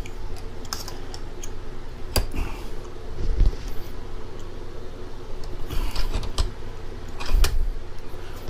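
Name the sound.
brake caliper bracket being clamped in a bench vise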